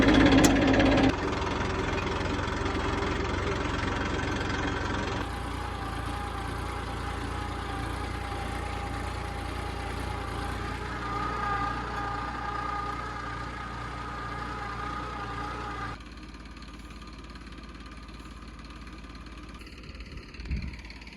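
A tractor engine runs steadily during field work in a Gujarat village, a continuous close, loud droning hum with a faint knocking beat that shifts pitch and weakens slightly midway, with no talking.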